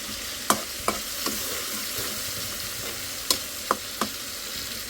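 Fish sizzles as it is sautéed in a pan, with a steady frying hiss broken by several sharp clinks and scrapes of a utensil stirring against the pan at irregular intervals.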